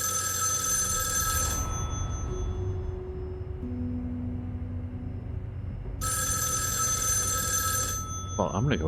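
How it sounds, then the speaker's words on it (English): Telephone ringing in the video game Erica, two loud bursts of electronic bell tone separated by a quiet pause, heard over a low ambient hum. "Well, I'm gonna go answer the phone."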